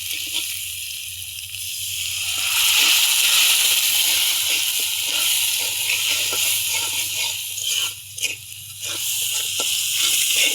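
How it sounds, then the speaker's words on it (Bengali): Turmeric, salt and spices sautéing in a pan with a splash of water, fish and vegetables to follow: a loud, steady hiss and bubbling sizzle that runs throughout, dipping briefly near the end. "এখানে মশলাটা কষা নিলাম"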